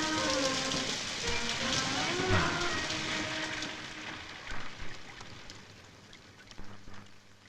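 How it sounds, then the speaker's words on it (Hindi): Heavy rain pours down over a village, a steady dense hiss of drops hitting surfaces, with soft low rumbles and a few heavier splashes near the end. "क्या ये बारिश रुकती ही नहीं?"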